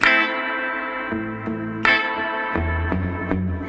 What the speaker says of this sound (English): Number 2, you get beautiful old style reverb.